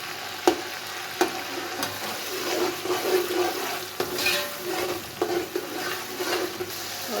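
Ginger-garlic paste hits hot oil already seasoned with cinnamon, cloves and star anise for a chana pulao, giving a steady close sizzle with spoon stirring and a few sharp clinks against the pan, no talking.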